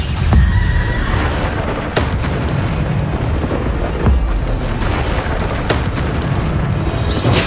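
In Hogwarts Legacy, the Bombarda spell explodes as several heavy booms and bursts over a dense, loud game battle, with sharp blasts recurring every second or two.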